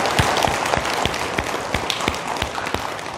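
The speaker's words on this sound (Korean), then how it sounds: "크게 박수 한번 보내주시기 바랍니다." An audience at a Buddhist temple gathering claps for a monk's elevation to grand master, a moderate, fairly sparse round of hand claps with distinct individual strikes throughout.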